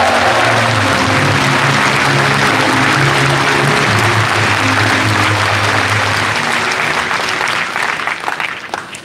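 Loud, sustained applause from a large crowd fills a party founding convention hall, steady throughout with a low hum of voices beneath, then gradually thins toward the end.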